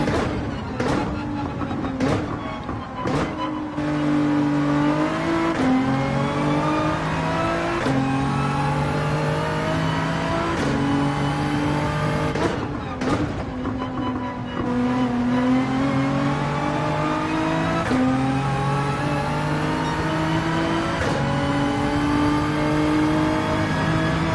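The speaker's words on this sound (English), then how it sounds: "Over rev those two first gears." A Nissan GT-R in Gran Turismo 7 revving hard through the first gears, engine climbing repeatedly to a screaming limit before each shift, steady and loud for the whole stretch with no talk.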